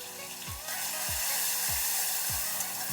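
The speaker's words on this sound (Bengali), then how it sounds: "দিয়ে একটু ভেজে নিচ্ছি।" Radhuni and green chili paste with turmeric sizzles steadily in hot oil, a continuous close frying hiss with soft periodic low thumps of stirring.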